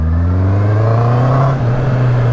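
A Honda CB650R motorcycle pulls hard in second gear, its engine note climbing in a smooth, loud rising whine from close by, with a brief dip before the pitch steadies.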